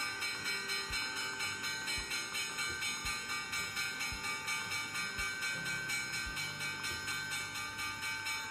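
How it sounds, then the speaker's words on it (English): A stock market opening bell rings in a steady repeating rhythm, each strike about a second apart, fairly faint and alone without talk. "There's the bell."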